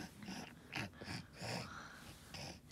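A dog snoring while lying pressed close, soft rhythmic snorts and wheezy breaths repeating at a slow pace, quiet and near with no talking.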